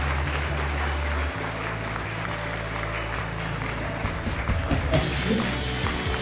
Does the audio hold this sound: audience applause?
yes